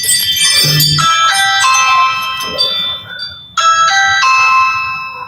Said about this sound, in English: Grandma loves that doorbell.